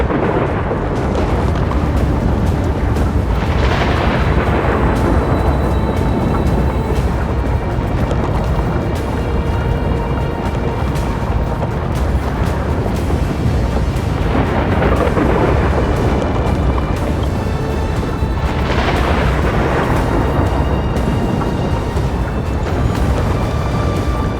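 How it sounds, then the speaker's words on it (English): Thunder rumbles through an apocalyptic scene in the game Honkai Star Rail, a dense, continuous roar with swelling cracks and booms recurring every few seconds, loud and enveloping throughout with no voices. "lightning and thunder."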